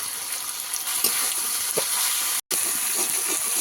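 Chopped tomato hitting hot ghugni masala in a pan with ginger paste and a little water, giving a steady, moderately loud sizzle and hiss with soft stirring scrapes and one brief dropout.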